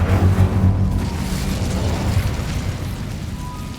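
An Incendio fire spell is cast in Hogwarts Legacy, giving a loud, deep whooshing burst that swells at the start and then rumbles on steadily, with no one talking over it.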